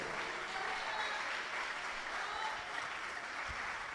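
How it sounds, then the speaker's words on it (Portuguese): A church congregation applauds during a sermon, a dense, even wash of clapping from many hands, fairly quiet and continuous throughout. "Isso, aplauda, glorifica ao Senhor."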